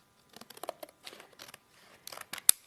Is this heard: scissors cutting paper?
yes